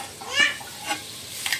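Fish pieces frying in oil seasoned with salt and turmeric, giving soft, faint sizzling with a few brief stirring scrapes spread across the moment.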